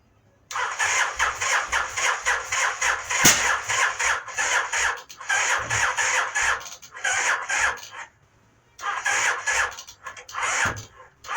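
Mini Baja truck engine being cranked repeatedly, rapid rhythmic churning bursts that sputter without catching, several long cranking attempts separated by short pauses, loud and close.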